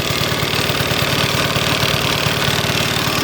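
Homemade 48-volt DC diesel generator engine running steadily, a loud, close, continuous rhythmic chugging with a low pulsing throb and no talk over it.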